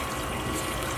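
Water running out of a screened pipe into a concrete pond in a rhino iguana and redfoot tortoise enclosure, a steady dense rushing splash for a brief second, close and unbroken.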